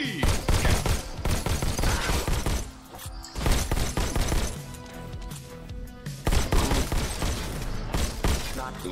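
Shotgun blasts and heavy gunfire from the VR shooter Robo Recall, loud dense bursts with crashes and booms over a continuous game soundtrack, brief gaps between volleys.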